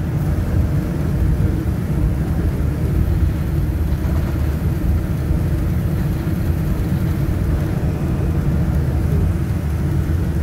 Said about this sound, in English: We're just taxiing now.